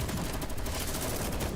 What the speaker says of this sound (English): Soon, gunshots fill the air outside the warehouse. The gunfire draws closer.